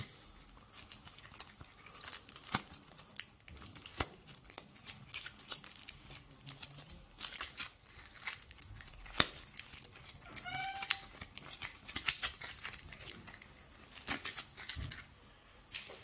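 Cards from the Aeon's End board game shuffled at a table, with repeated crisp riffles and flicks coming in bursts over several seconds, close and fairly light, plus occasional taps.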